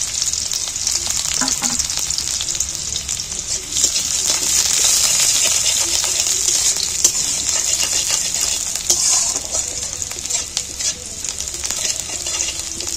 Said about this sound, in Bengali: পেঁয়াজটা আমি তেলের মধ্যে তুলে দিয়েছি, নাড়াচাড়া করছি